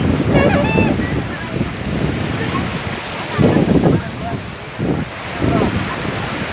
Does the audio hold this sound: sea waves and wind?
yes